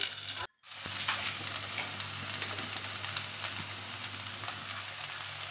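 Mustard seeds, dried chillies and shallots frying in hot oil for a papaya thoran, a quiet even crackle and sizzle after a brief gap near the start, close by with faint pops and no voices.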